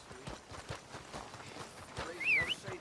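Horse hooves clip-clop at a steady walking rhythm in the Red Dead Redemption 2 video game, moderately close, with a brief bird call and faint voices underneath.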